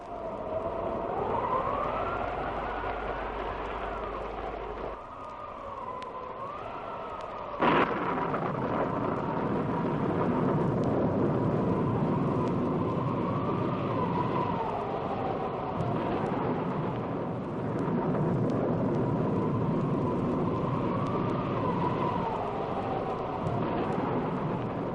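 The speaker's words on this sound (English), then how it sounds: "Come out of the storm." A radio-drama storm effect plays for the whole clip: steady roaring wind with a rising, whistling tone, and a sharp thunder crack near the start.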